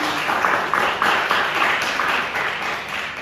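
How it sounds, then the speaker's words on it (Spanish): Audience clapping to welcome a guest at a panel on feminism, erotic art and pornography, with steady rhythmic claps from a modest crowd, fairly close and continuous for a few seconds. "Esa es Sofi, le damos un aplauso"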